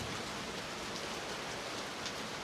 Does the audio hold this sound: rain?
yes